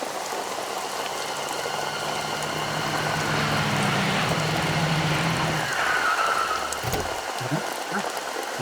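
Steady, loud rain pours down without a break, a dense hiss of drops hitting surfaces, with a few brief clunks near the end.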